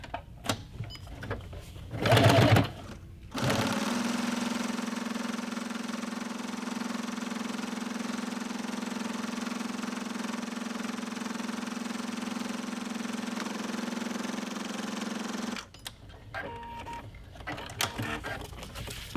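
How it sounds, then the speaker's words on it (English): A sewing machine stitches a strap on a kraft-tex tote bag in one long, fast, even run of steady mechanical whirring, close and loud, with brief handling noises before and after. "See how quickly it's sewing, folks?"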